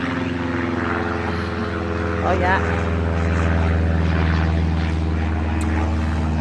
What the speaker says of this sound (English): And above us you can hear aeroplanes.